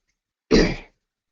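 One short, sharp cough, close and loud, alone in otherwise near silence.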